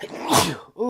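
A single sharp sneeze bursts out close to the microphone, followed by a short voiced exclamation right after.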